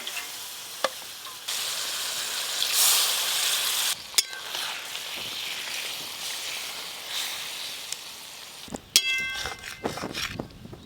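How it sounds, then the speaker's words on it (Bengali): Spiced hilsa fish sizzles in hot oil, a bright continuous frying hiss broken by sharp clinks and scrapes of a utensil stirring against the pan, and ending with a louder burst of spatter. "এই যে মশলা মাখানো মাছ আছে পুরোটাই কোঁড়াতে দিয়ে দেব।"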